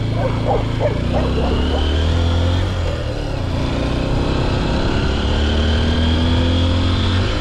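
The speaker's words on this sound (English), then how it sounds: "There's too many dogs, let me park somewhere else." Dogs bark in a quick burst of several sharp yelps near a parked Honda XR150L trail motorcycle, over a steady low engine or traffic drone, with no talking.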